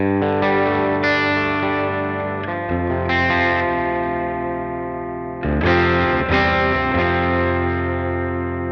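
Sustained distorted electric guitar chords through a Universal Audio OX Amp Top Box load box, ringing out with a wavering modulation effect and a wash of reverb, played loud with no talking.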